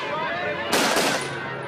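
Police opening fire on schoolchildren in Soweto, South Africa, in 1976: a single sharp, loud burst of gunfire cracks out briefly amid a murky background of crowd voices.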